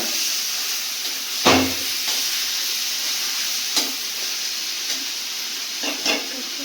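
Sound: onions frying on low flame for chicken curry

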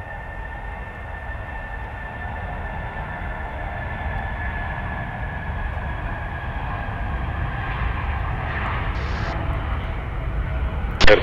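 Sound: Air Serbia airliner taking off from Belgrade airport runway

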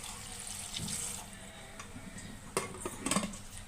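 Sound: water poured into pressure cooker

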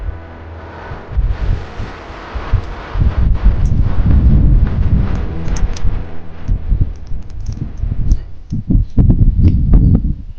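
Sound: strong wind blowing beside a lake

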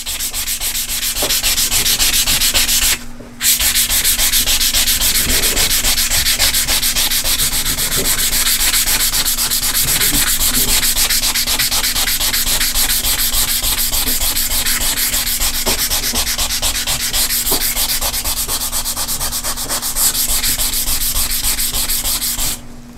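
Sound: sanding copper PCB surface with 600 grit sandpaper

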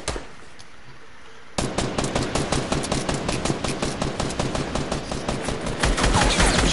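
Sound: gunfire in the video game Fortnite

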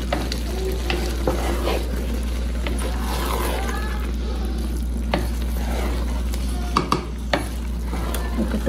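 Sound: stirring biryani rice in a new pot

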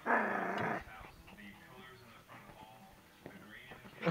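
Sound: hyper puppy growling and barking

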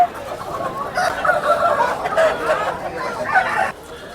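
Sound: chickens at a market

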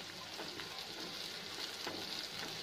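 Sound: sautéing onions in a pan for mushroom Manchurian

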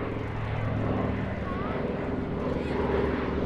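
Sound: Douglas DC-3 Dakota aircraft engines at air festival

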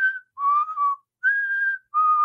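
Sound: whistled imitation of a wrestling theme song intro

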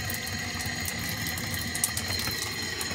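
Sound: water flowing through newly installed PEX plumbing line

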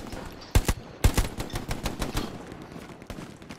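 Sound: gunfire from an STG44 in the video game Hell Let Loose

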